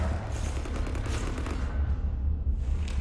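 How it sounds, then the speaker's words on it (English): Sustained rapid gunfire in a Mass Effect game, with weapons shooting up a ship, rolls on as a dense, loud, continuous barrage with heavy low-end rumble and no pause across the few seconds. "You want to stop shooting up my ship?"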